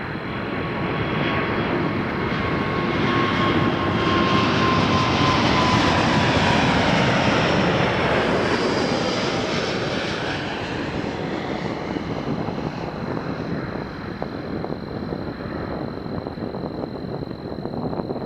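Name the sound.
aircraft at Toronto Pearson runway 23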